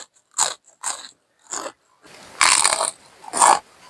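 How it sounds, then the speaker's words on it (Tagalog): Crunchy fried gumamela (hibiscus) chips topped with cheese being bitten and chewed up close, with three short separate bites followed by two louder, longer bursts of crisp crunching. "Tikman nga po natin kung malutong."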